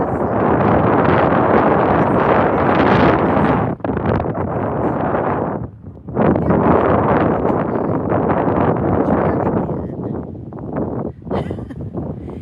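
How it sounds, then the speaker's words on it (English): Strong wind buffets a nearby microphone in steady, roaring gusts, with brief lulls between blasts, outdoors on a walk. "It's pretty windy out here."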